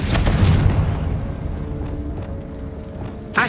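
A Confringo spell explosion from the video game Hogwarts Legacy: a loud, deep boom that bursts at the start and rumbles away over a few seconds, with a sharp pop right at the end.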